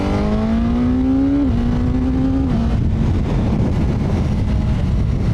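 A Suzuki GSX-S1000 naked bike's 150-horsepower engine roars up close, its pitch climbing then dropping in steps, loud and continuous with no talk.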